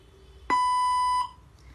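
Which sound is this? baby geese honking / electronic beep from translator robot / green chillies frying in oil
electronic beep from translator robot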